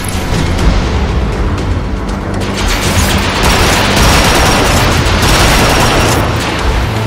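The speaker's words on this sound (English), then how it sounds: "Autobots are exploding!" Explosions and rocket fire in Transformers: Fall of Cybertron, a loud continuous barrage of booms and rattling blasts rolling together without pause, dense and close throughout.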